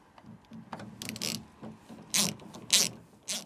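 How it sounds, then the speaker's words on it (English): A bolt being tightened on a Vauxhall Corsa D door handle, heard as a series of close ratcheting clicks that build into louder bursts toward the end, with no talking. "all we have to do is tighten the bolt"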